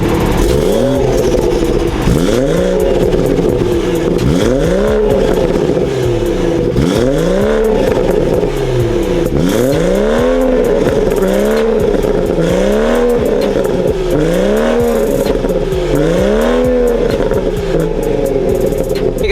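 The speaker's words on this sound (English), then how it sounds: "There's nothing done to my exhaust except for that downpipe, and I just love the way it sounds." A loud BMW B58 car exhaust with aftermarket downpipe and valves open revs repeatedly, rising and falling in a steady rhythm of roaring throttle blips with raspy crackle, close and sustained.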